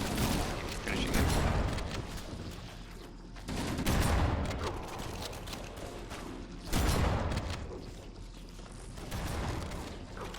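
Repeated shotgun blasts in a first-person shooter game, three or four loud bursts spaced a few seconds apart over a busy mechanical background of in-game clatter.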